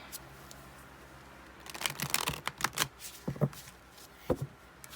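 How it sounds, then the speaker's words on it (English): A deck of tarot cards shuffled by hand, soft riffling and tapping bursts that build in the middle and taper into scattered light clicks, close and quiet with no talk. "Shuffling on camera"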